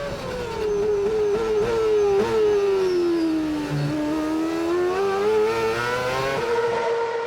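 Formula 1 race cars racing at the 2012 Australian Grand Prix, a loud, high engine howl rising and falling as a car passes close, with others whining behind it.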